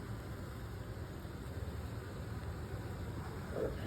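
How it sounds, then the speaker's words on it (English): Honey bees buzzing inside a double-deep spring beehive, a continuous low, dense hum held steady throughout, close and without voices. "there's a lot of bees in there"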